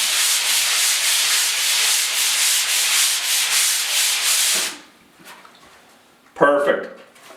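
Drywall being sanded by hand in a basement bedroom renovation, a loud close rhythmic scratchy rubbing in circular strokes for about five seconds, then stopping, followed by a brief knock and a short word of speech.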